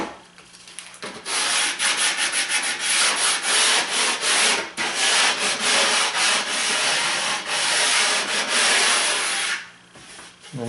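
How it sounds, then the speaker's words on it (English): Sandpaper on a sanding block rubbing along a wood edge at a floor transition, a steady close scraping that runs in repeated strokes for most of the clip, then stops near the end. "Get that with a little sandpaper."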